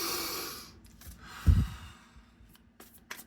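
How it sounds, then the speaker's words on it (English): A slow, deep breath drawn in and let out, soft airy rushing with a low burst near the middle, alone and close with no talking. "Take a deep breath with me."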